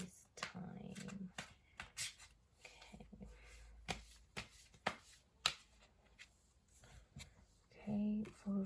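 A Rider-Waite tarot deck being shuffled by hand, with irregular close card slaps and rubbing in uneven bursts, and brief vocal sounds in between.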